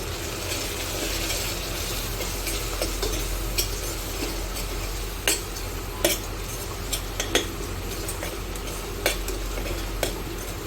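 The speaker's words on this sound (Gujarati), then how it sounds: "હવે એને મિક્સ કરી લઈશું।" A spoon stirs ground pepper and coriander-cumin spice in a pan on the stove, scraping and clinking sharply at irregular intervals over a low steady sizzle, close up and with no talking.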